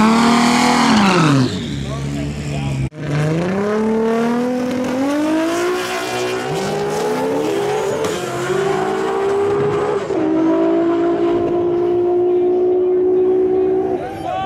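A 1900-horsepower Toyota Supra race car with a 2JZ engine roars through rising gear pulls, its revs climbing and dropping between shifts, loud and close with a sharp break partway through.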